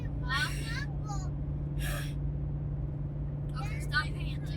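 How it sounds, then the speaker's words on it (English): Quick breathy pants and gasps inside a moving RV, several short bursts over a steady low engine and road hum. "Okay, stop panting."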